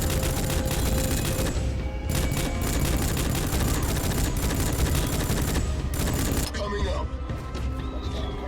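Enemy gunfire in the 2006 shooter game Rogue Trooper, heard as sustained dense rattling volleys with sharp cracks, loud and nearly continuous, under a voice talking.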